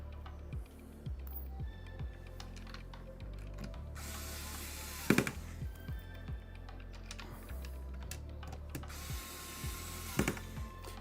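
Small electric screwdriver driving AIO cooler screws during a gaming PC build in a Phanteks XT M3 case, heard as several short whirring bursts with ratcheting clicks and a few sharp knocks, close and fairly quiet, without speech.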